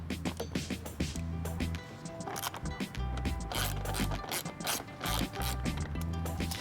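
A hand ratchet loosens a 10 mm bolt on a side view mirror panel of a 2013–2021 Infiniti QX60, with rapid clicking pawl bursts in repeated spurts and short pauses between them, loud and close.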